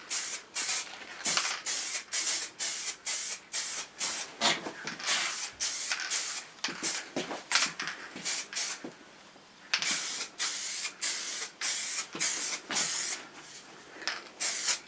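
Liquid wrap sprayed from an aerosol can onto a Triumph Tiger motorcycle in a garage, heard as a string of short, close hissing bursts in an even rhythm with brief gaps, loud and alone.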